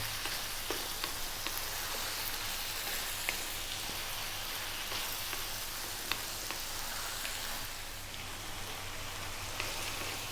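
Tomatoes cooking down in a pan over lively heat while making a ground beef and potato curry, a steady, even sizzle and crackle that continues throughout with no talk.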